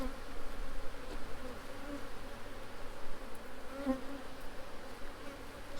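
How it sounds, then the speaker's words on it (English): Honey bees buzz around a hive box being smoked to clear out the last of them, a steady, dense hum of many insects close by with no talk. "I'm just smoking the box just to get out the remaining bees"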